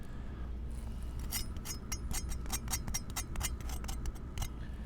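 Crisp, brittle crunching in quick irregular bursts, close to the microphone, like biting into crispy fried chicken coating over a low steady background hum.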